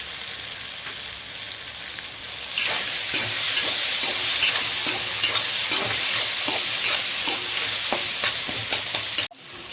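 Roasted brinjal mixed with salt is stirred in a pan over a constant hiss, the spoon scraping and tapping in an uneven rhythm. The stirring grows busier partway through and stops abruptly just before the end.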